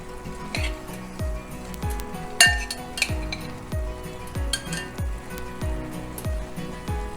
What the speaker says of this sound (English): We're gonna add the pasta and watch the magic happen.